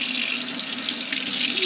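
A faucet runs steadily into a sink while parts of a Berkey water filter are washed in an RV, giving a continuous close hiss of flowing, splashing water with no talk.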